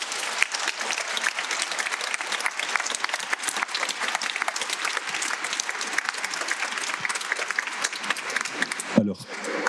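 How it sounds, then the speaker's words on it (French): Sustained applause from a church congregation at a healing service fills the space with dense, steady clapping for about nine seconds, then cuts off abruptly near the end. "Applaudissons l'œuvre de Dieu."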